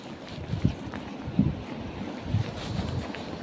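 Wind gusts across the microphone in a constant rushing roar, with low thumping bursts from buffeting and a faint outdoor wash behind.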